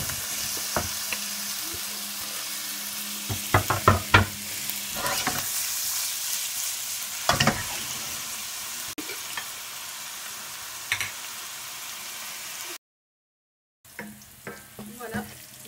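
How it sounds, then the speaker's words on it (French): Bell peppers fry in hot oil in a pan, a steady close sizzle broken by scattered stirring knocks and scrapes, with a brief cut to silence near the end. "Et je vais aller le faire revenir dans l'huile chaude."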